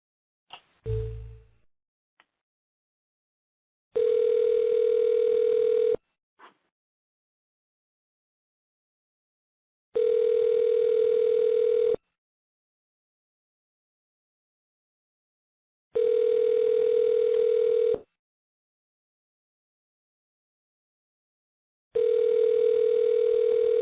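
Outgoing telephone line ringing back during a live cold call, four evenly spaced two-second ring tones separated by silent gaps, clear and steady with no talking.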